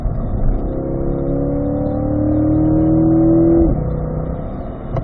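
A 2020 Chevrolet Corvette C8 mid-engine car accelerates hard, its engine note climbing steadily in pitch for several seconds before dropping at a gear change, loud and close from inside the cabin.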